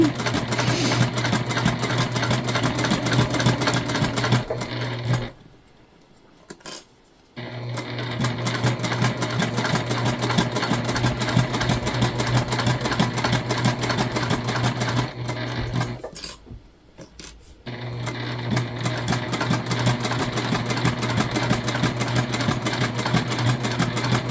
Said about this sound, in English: make a little smaller stitch and go one more over